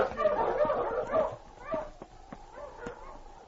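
A husky sled dog on a Yukon trail gives short whimpering yips and barks, fairly close, mixed with a voice hushing it.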